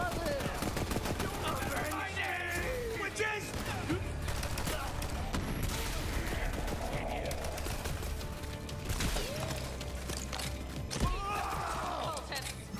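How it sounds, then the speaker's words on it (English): Shotgun blasts and rapid gunfire in Borderlands 3 combat, loud and dense, layered over game music and effects with a player talking throughout. "shotgun packs a punch"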